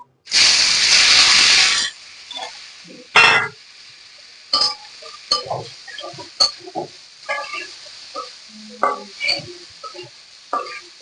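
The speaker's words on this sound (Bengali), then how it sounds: "তেলটা দিয়ে চালগুলো আমি ভেজে নেবো বন্ধুরা আমার তেল গরম হয়ে গেছে" Raw rice hits hot oil in a pan for a fish-head rice dish, making a sharp, loud hiss that lasts almost two seconds, then a brief second hiss and a string of scattered clinks and scrapes of stirring.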